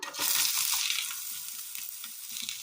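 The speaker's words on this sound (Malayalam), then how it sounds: "ഇനി ഇതിലേക്ക് അരിഞ്ഞു വെച്ചിരിക്കുന്ന സബോള ഇട്ട് കൊടുക്കാം" Chopped onions drop into hot oil in a pan and crackle loudly, the sizzle easing into a softer steady fry with faint low knocks of stirring beneath.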